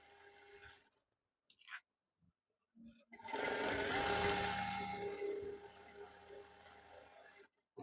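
A sewing machine runs a line of stitching along the edge of an Afghani trouser, a close steady whirr lasting a few seconds after brief clicks and handling sounds.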